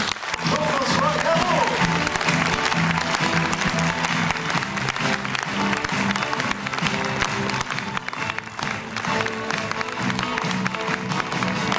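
Audience applause at the opening ceremony of the Cinéland 2018 international short film festival in Brittany: sustained, dense clapping from a large crowd, steady and loud throughout, with a few voices mixed in.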